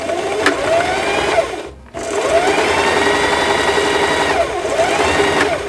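A sewing machine runs a straight stitch to fold down the tops of belt bag pieces, a loud, steady mechanical whir with a short pause partway through before it resumes and runs on.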